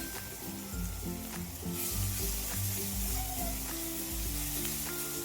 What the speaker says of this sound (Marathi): आता हिरवी मिरची आणि लसूण जे आहे थोडासा लाल होऊ द्यायचा आहे.